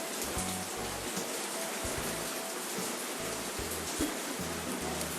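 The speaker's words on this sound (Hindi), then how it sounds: "थोड़ी थोड़ी वहाँ से बारिश आ रही है" Steady first monsoon rain of 2020 hisses continuously, filling the air with an even, dense wash of noise, while muffled low thumps pulse underneath at irregular intervals.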